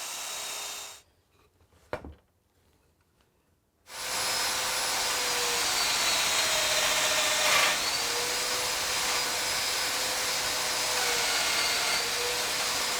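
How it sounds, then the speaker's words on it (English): Domino joiner making plunge cuts into ash wood, a brief spin-up and sharp knock followed by a long steady whining motor roar with dust-extraction hiss, close and loud, no talk. "I can plunge down and make these cuts"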